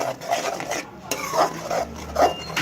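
An egg mixture with onions and tomatoes is stirred in a pan, spoon scraping and clinking against the metal in uneven strokes over a low sizzle, no talk.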